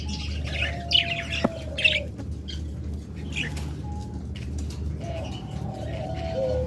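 Caged lovebirds kept for sale call in bursts of chirps and soft coos, close and moderately loud over a low background hum, with no talking.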